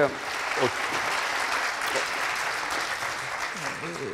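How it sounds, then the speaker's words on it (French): Audience applause fills a wine tourism conference hall, a steady wash of clapping that holds for several seconds with a few voices talking faintly underneath. "Merci Jérôme, on peut l'applaudir chaleureusement."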